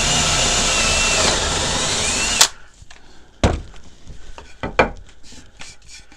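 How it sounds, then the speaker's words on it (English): A power drill whines steadily for a couple of seconds boring through wood pressed onto a backing board, then stops abruptly, followed by a few sharp knocks and light handling clatter. "now we'll make a hole in this with the backing board"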